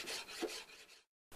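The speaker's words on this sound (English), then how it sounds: "I had to go into the file here because some of the material is hard" A hand file rasps across hardened epoxy putty on a steering wheel, several close, rhythmic scraping strokes that stop in silence before another stroke begins.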